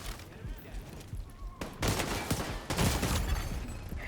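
Bursts of gunfire from a D50 pistol in a shooter video game come loud and close, thickening into a heavy barrage in the second half, with a player talking over the shots.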